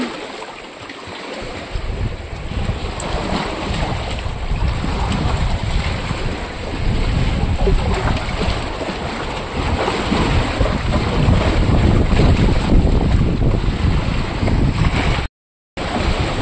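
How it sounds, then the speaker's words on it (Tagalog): Sea waves break along the rocky coast of Oriental Mindoro near a cave, a continuous surging wash layered with wind noise, growing slightly louder midway and cutting out briefly near the end. "Alon."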